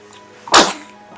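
A single sharp sneeze from a woman indoors, sudden and close, bursting out and fading within half a second amid quiet.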